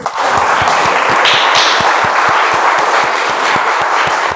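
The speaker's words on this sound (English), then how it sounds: "So huge round of applause for everyone" A meeting audience claps after a speech, a loud, steady round of clapping from a crowd that runs unbroken for a few seconds with a few sharper individual claps standing out.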